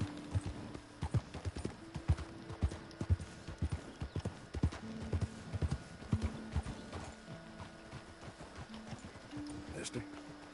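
Horse hooves clip-clopping in Red Dead Redemption 2, a steady rapid rhythm of hoofbeats throughout, with occasional game sounds and a faint whinny in the background.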